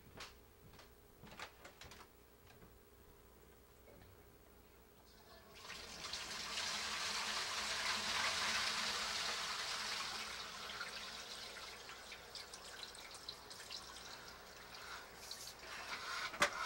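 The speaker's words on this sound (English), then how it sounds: "Maybe we get a quick flush of your toilet." A household toilet flushing during a sewer line inspection, a steady rush of water that rises suddenly and keeps pouring at moderate loudness for about ten seconds, with a few clicks and knocks before it.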